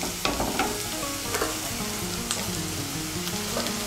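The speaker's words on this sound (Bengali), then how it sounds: "এখন আমি এর মধ্যে দিয়ে দেব জল ঝরানো চিড়ে" Drained flattened rice being stir-fried with already fried vegetables in a pan, a busy sizzle broken by scraping stirs and spatula knocks, close and fairly loud with no voices.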